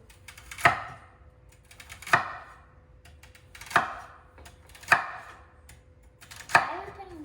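A knife chops vegetables on a board with five sharp, evenly spaced strikes about every one and a half seconds, close and clear, each with a brief ringing tail.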